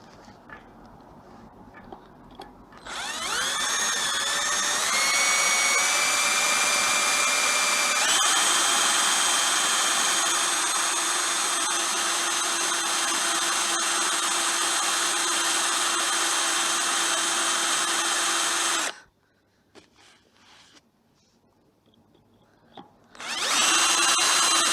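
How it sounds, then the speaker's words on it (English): A power drill runs loud and steady for about fifteen seconds while drilling into a bike being stripped, its motor whine holding constant, then stops and briefly starts again. "just gonna put the drill bit"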